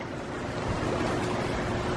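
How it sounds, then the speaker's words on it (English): A small creek flows with a steady, broad rushing wash, close and even, with no voices. "Got a little creek back here."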